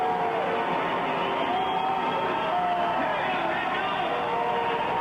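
Crowd at a football game, the UT Warriors against the Red Dogs, roars steadily as spectators rise to their feet, a continuous wash of cheering and noise with faint voices mixed in.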